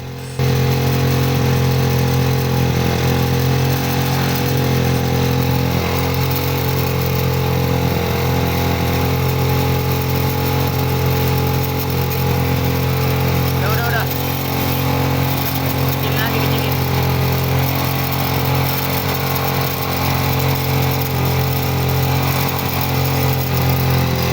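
A motorcycle engine idles steadily and loudly up close for the whole stretch while its carburetor throttle stop screw is set back to about 1200 rpm, with no change in pitch or pause.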